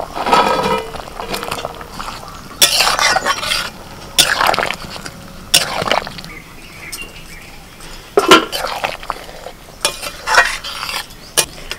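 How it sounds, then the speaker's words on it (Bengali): Fried fritters are stirred into a potato and ridge gourd curry: a spoon scrapes and clinks against the pan in irregular strokes over a light sizzle, close and fairly loud, with no talking. "এবার ভাজা বড়াগুলোকে দিয়ে দিচ্ছি।"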